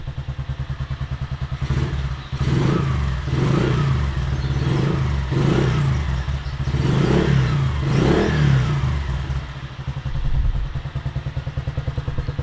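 A Honda CG 125 motorcycle engine with a USA Racing aftermarket muffler is revved repeatedly, rising and falling in several loud throaty bursts between a thumping idle, close by.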